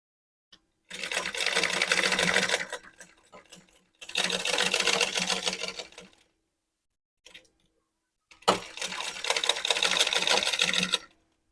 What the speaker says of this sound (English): I like to sew it twice. Okay, so I've sewn these ones, then I'll bring out the other one and sew it again.